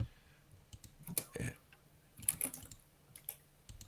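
Typing on a computer keyboard gives faint, irregular clusters of quick clicks and taps, near but quiet, with pauses between bursts.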